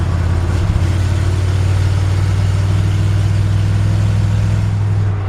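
A 1964 Chevrolet C-10 pickup engine running close by, a loud, steady low-pitched idle rumble that holds even throughout with no pauses or voices.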